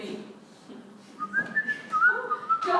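A person whistles a short, wavering melody in a classroom during a test review, the tune rising in bursts over a low murmur of room noise and faint background voices.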